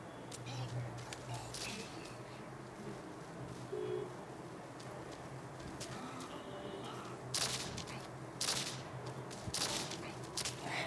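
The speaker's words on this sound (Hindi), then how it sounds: "ये शॉटगन टाइप है।" Shotgun blasts from the mobile shooter Guns of Boom come as a few sharp bursts late in the stretch, layered over quieter game effects while a player chatters.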